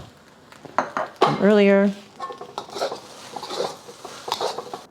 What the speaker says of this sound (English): Turning off the heat, adding my green onions